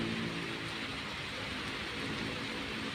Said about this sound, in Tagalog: Mahinang ambon.